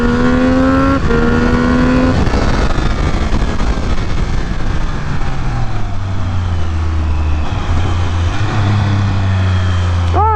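A Triumph Speed Triple 1200 RR motorcycle accelerates hard, its loud, close engine revving up through a gear change and pulling continuously to a high-pitched howl with no talking.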